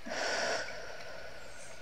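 A person exhales deeply and slowly during a breathing meditation, a soft airy breath that fades out, with a gentle river murmuring faintly underneath.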